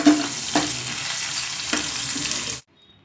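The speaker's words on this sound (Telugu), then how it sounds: "అల్లం వెల్లుల్లి పేస్ట్ అనేది పచ్చివాసన పోయేంత వరకు ఆయిల్లో ఫ్రై చేసుకోవాలి." Ginger garlic paste fries in oil with a bright, steady sizzle and a few stirring scrapes, close up, cutting off abruptly near the end.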